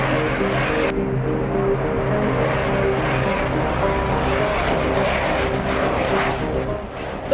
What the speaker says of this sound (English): The Rafale is a beast of a jet, powered by twin-jet engines